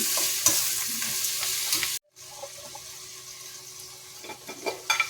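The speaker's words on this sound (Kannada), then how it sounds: "ಎಲ್ಲದನ್ನು ಈ ಥರ ಫ್ರೈ ಮಾಡ್ಕೋತಾ ಇದ್ದೀನಿ" Vegetables frying in a pan for semiya upma, a steady soft sizzle with stirring scrapes and light clatter, briefly cut to silence before the frying resumes.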